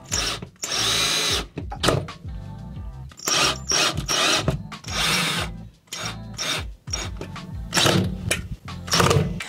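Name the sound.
power drill driving screws during toilet repair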